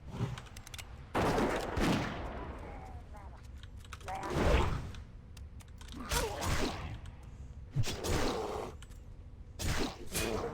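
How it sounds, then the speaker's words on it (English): Dwarf hunter's gunshots in Classic World of Warcraft, a handful of sharp reports spaced a second or two apart over a low game background. "Let me shoot this guy."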